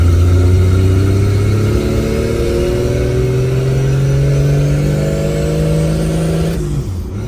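A 1963 Plymouth Valiant six-cylinder, boosted and fed through a Carter BBD carburetor, revs loud and close, its pitch climbing steadily over several seconds before dropping away sharply at the end.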